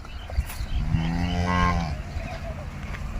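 A single long, low moo from a Jersey cow swells and fades near the listener, with faint farmyard background noise and no talking.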